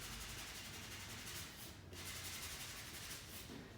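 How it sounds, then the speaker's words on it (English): Abrasive paper lightly sanded over a leather surface gives a soft, close, steady rubbing hiss in repeated back-and-forth strokes, with a brief pause partway through. "Just very, very, very lightly sand that away. Just to take the roughness away on the leather surface."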